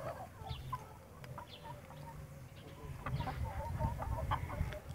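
Free-range country chickens cluck in low, scattered calls close by over a steady outdoor background, with faint higher bird chirps mixed in.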